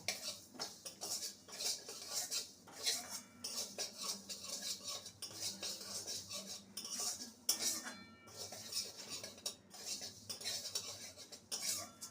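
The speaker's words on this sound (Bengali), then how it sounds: "সমস্ত মশলাকে শুকনো খোলায় ভেজে নেব" Cumin, sesame and mustard seeds dry-roasting in a dry pan while a metal spoon scrapes and clinks steadily, with a continuous rattling sound and no voices.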